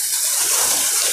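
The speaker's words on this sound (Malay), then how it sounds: "Ini dia air terjunnya. Sungguh cantik." Waterfall in the Mokil permanent forest reserve, a steady close rushing and splashing of water that holds continuously at full level with no voices.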